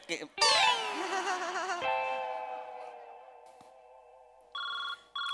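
A telephone rings with a bright, repeating electronic tone that swells loudly at first and then sustains steadily, with two short bursts of ringing near the end.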